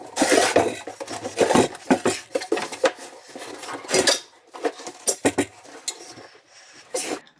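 A space-saving toilet pan is pushed onto its pan connector, giving a burst of scraping, knocking and rubbing of ceramic and plastic, close and fairly loud, with clatters at irregular intervals over several seconds.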